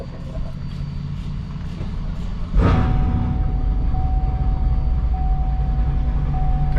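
A Chevrolet Camaro running on E85 fuel cranks and fires with a sudden loud burst, then settles into a steady, close, rumbling idle with a faint high whine on top.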